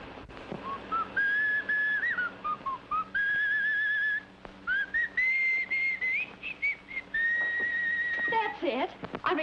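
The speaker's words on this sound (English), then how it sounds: "whistled softly, half to himself, like this" A man whistles a soft, wandering tune half to himself, clear sustained notes in phrases with short pauses, close and alone.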